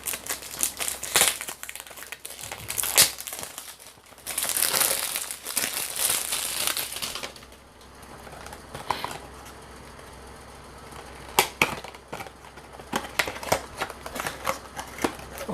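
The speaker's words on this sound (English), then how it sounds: "So let's unbox it up" Crinkly cardboard and plastic packaging of a Carolina Herrera 212 VIP Men Party Fever perfume box being handled and opened, bursts of rustling and crumpling that ease off into sparse clicks and taps.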